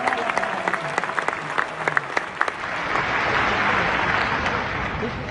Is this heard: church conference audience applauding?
yes